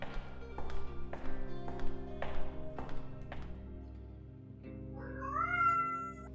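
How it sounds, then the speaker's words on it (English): Vega the cat gives a short rising meow near the end, heard over a quiet bed of sustained piano-like notes and several soft plucked taps, with no talk. "with me as always is Vega the cat"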